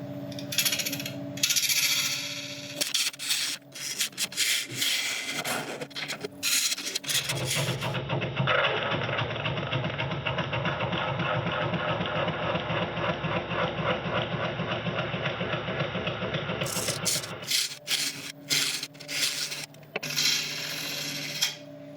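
Wood lathe spinning a burl at about 940 RPM, a steady loud whirring drone with rhythmic scraping as the tool cuts, close, framed by clattering and shop noise before and after.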